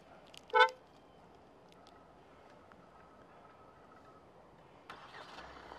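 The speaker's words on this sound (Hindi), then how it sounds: "एंड होल्ड करके अब रखता हूँ तो गाड़ी स्टार्ट हो जाने वाली है।" A Kia Carnival starts by push button. A short beep comes first, then a quiet stretch, then the engine catches and settles into a soft, low idle in the background.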